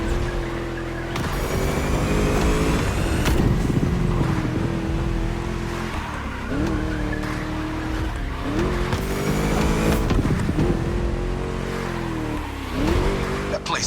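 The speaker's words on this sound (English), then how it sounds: "Just listen to that V8 like a chunky, down-tuned guitar riff" A V8 race car in The Crew Motorfest roars around the track, its loud engine revving up and dropping repeatedly through gear changes and corners, with squealing tires and a voice talking over it.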